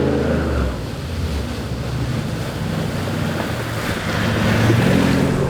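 A 4x4 splashing through salt water on a beach and bush trail, a loud, continuous rushing wash of water and spray mixed with wind noise on the microphone, steady throughout with a swell near the end, no talking.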